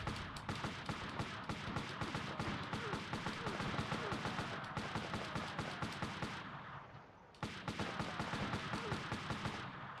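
Grenade blasts and rapid gunfire in the Army Men: World War video game, a dense run of loud, sharp repeated bursts with a brief lull before the firing resumes.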